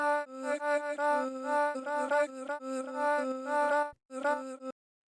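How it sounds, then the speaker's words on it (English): A grainy, granular-synthesized vocal sample with stacked, sustained pitched tones that stutter in short grains, stopping briefly near the end before a final burst and then silence. "the next thing we have here is this grainy voice sample"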